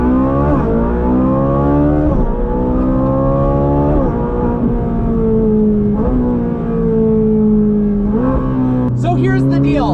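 A Speciale supercar engine revs hard and close, its loud roar climbing and falling in repeated blips with a steady, rumbling idle between them and no pauses.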